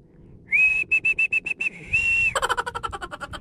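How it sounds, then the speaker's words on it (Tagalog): A person whistles from a boat while fishing to call up the wind: a quick run of short, clear, high-pitched blasts, one longer held note, then a rapid fluttering trill. "So sipol tayo para lumakas ang hangin."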